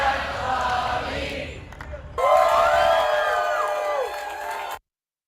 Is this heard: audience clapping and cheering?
yes